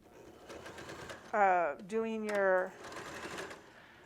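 A sewing machine stitching the outer pieces of a potato bag runs in two short whirring bursts with a brief pause between, close by, while a person talks softly before and after.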